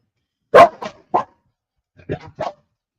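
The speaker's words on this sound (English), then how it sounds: "don't mind the dogs barking" Dogs bark loudly and close by in two short bursts of three sharp barks each, separated by a brief silence, with no talk.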